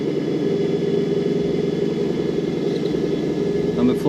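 Engine of a 2021 Ford Bronco fitted with SSD straight axles and a new motor, crawling a canyon trail under gentle throttle: a steady, close, low drone with no sharp revving.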